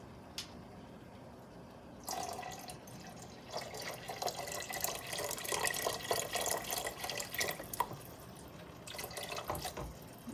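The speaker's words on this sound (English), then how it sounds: "And then you're going to add your vegetable stock." Vegetable stock poured from a 32-ounce box into a pot of tomato orzo soup, a steady close splashing and gurgling flow that starts after a quiet moment.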